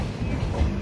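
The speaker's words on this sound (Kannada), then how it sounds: "ಗಾಡಿ ಇಲ್ಲಿಂದ ಹೊರಡ್ತಾ ಇದೆ." Train pulling out of Gubbi railway station, a steady low rumble of rolling rail cars filling a brief moment, close and continuous with no voices.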